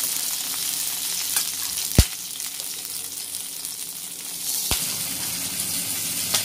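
Garlic and green chilies frying in oil in a pan give a steady, close sizzle and crackle, broken by two sharp metallic knocks of a utensil against the pan.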